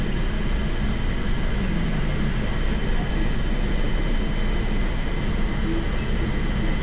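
The JFK Airport AirTrain rolls along with a steady, dense rumble and hiss, constant and loud, as if heard from inside the car.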